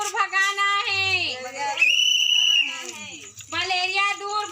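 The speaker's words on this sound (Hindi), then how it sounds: "छत्तीसगढ़ के राजनंद गांव में सीटी की ये आवाज खास है।" An awareness-campaign whistle against dengue and malaria in Rajnandgaon, Chhattisgarh gives one sustained shrill blast, set between stretches of loud chanting voices before and after.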